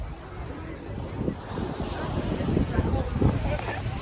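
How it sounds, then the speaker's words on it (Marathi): Ocean waves wash fast onto a beach at Thiruvananthapuram, Kerala, in a continuous rushing surge, with gusty wind buffeting the microphone. "लाटा जाम फास्ट आहेत"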